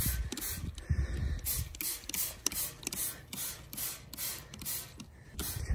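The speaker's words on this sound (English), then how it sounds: "See, like right there, I'm spraying" A run of short, hissing spray bursts in a quick, uneven rhythm, fairly close, with faint clicking and no talking, as rust patina liquid is sprayed.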